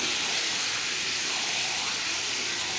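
Lote fish with fried spice paste sizzling in a pan, a steady hissing sizzle running broadband and fairly loud throughout, with no voices.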